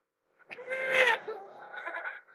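A sheep bleats once on a mountain pasture, a single wavering cry, close and fairly clear against quiet.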